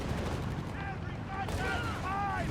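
Distant, muffled gunfire from an anti-tank half-track in the WWII strategy game Company of Heroes 3, rumbling steadily under a dense wash of battle noise with faint tonal whines.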